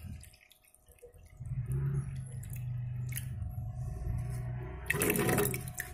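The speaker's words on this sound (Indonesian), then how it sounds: "Buang dulu airnya dikit." Water poured out of a glass jar used for breeding betta fish, a sloshing, splashing pour that swells near the end over steady background noise.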